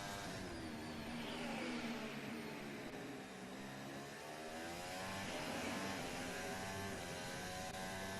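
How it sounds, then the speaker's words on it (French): Formula 1 cars running during third practice at the 2023 Saudi Arabian Grand Prix, a continuous high-pitched engine whine rising and falling in pitch as cars pass, steady and moderately distant with no voices. "vous voyez pas mal de voitures en piste dès le début de la séance"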